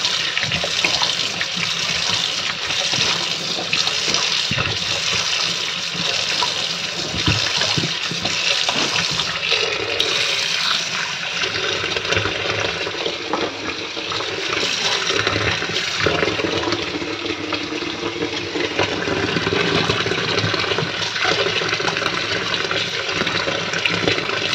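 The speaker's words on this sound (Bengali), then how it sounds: "চালটা কাটা হয়ে গেছে, এবার ধুয়ে নেবো।" Tap water runs steadily into a bowl while rice is washed in a home kitchen, a continuous loud splashing stream with shifting gurgles and no talk.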